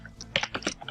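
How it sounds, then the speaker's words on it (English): Brief bursts of computer keyboard typing, a quick cluster of clicky key presses within under a second, fairly close and without speech. "What are you typing?"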